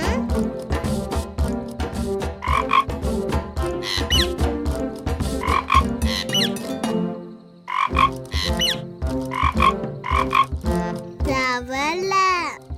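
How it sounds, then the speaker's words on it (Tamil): Croaking from a cartoon frog in a children's animated show, repeated calls over a busy music-like bed with cartoon voices and effects throughout. "தவளை."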